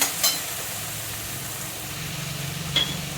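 Steady low sizzle of ingredients being sautéed in a pan for fasting bhagar rice, close and continuous with a couple of brief metallic clinks.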